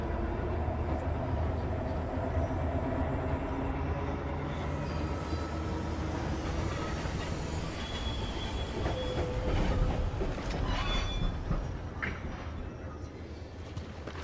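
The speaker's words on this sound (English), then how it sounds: "You powered up the tram to reach the steelworks." A tram runs along rails in the video game Cronos: The New Dawn, a steady loud rumble of wheels with clacks and brief metallic squeals, continuous and close throughout.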